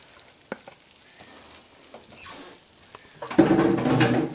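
Onions drop into a hot pan for a holiday broccoli casserole, a few quiet clinks followed by a sudden loud sizzle that keeps going through the last second.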